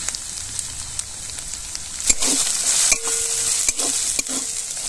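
Ginger-garlic paste with chili powder, turmeric and spices sizzling in a pan with fried onions, a steady soft crackle broken by a few sharp spatula scrapes and stirring clatters.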